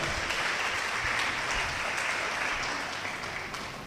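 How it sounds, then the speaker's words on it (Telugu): A congregation at a Christian sermon claps loudly, a dense, steady burst of applause that holds for a few seconds and then eases slightly. "గట్టిగా చప్పట్లు కొట్టి"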